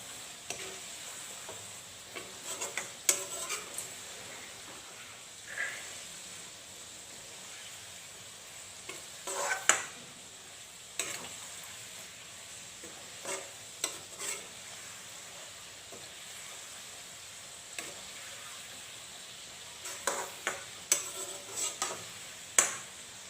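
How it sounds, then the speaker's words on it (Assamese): Mango pickle with chili, cumin and coriander powder is stirred in a pan, giving faint scraping and clinking strokes at irregular intervals over a soft, quiet background. "আৰু এতিয়া ভালকৈ লৰাই থাকিম"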